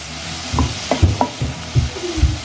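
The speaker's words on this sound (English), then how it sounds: "I'm going to add just some fajita spice for flavour really. So just dry fry this." Food dry-frying in a pan with fajita spice, heard as close sizzling broken up by several distinct scraping stirs at a steady, irregular pace, with no talking.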